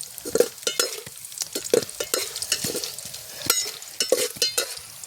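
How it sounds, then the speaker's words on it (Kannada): Chana dal frying in a pan for a tomato gojju, with a spatula stirring and scraping in repeated sharp strokes over a light sizzle, close and fairly loud, no voices. "ಕಡಲೆಬೇಳೆ ಹಾಕ್ಕೊಂಡು ಫ್ರೈ ಮಾಡ್ಕೊತಾ ಇದ್ದೀವಿ"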